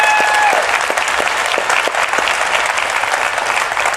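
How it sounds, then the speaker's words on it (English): A conference hall audience at a hacker convention breaks into a strong round of applause, dense steady clapping with a few sharper individual claps standing out, sustained throughout with little talk. "Let's give her a big round of applause for what she's done."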